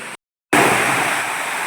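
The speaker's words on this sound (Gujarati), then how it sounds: "કેટલો પવન સાથે વરસાદ ગરજી રહ્યો છે" Heavy rain driven by strong wind roars as a steady, dense hiss over village farm fields, cutting to silence briefly before resuming at full loudness.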